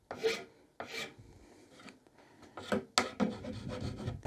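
A file rasps across a wooden ferro rod handle, cutting a chamfer on a corner: short scraping strokes, a couple of separate pulls then a longer run of rubbing, close and fairly quiet, no voices.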